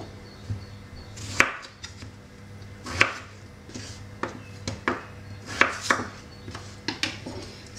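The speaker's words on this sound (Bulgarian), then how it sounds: "Нарязваме си картофите." A knife chopping potatoes into large pieces on a board, sharp irregular cuts spaced a second or so apart, close and clear with no talk.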